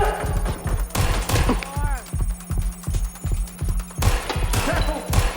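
Gunfire in the video game Watch Dogs Legion, a fusillade of repeated loud shots in rapid bursts over a low throbbing hum, with shouting voices mixed in.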